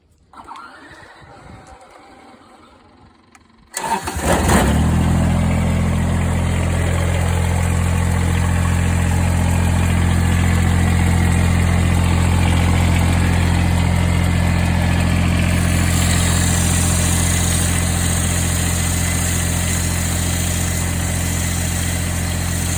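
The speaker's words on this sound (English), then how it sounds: "Go ahead and start the tractor." A Kubota BX compact tractor engine cranks briefly, catches and settles into a loud, steady idle that continues for a long stretch at close range.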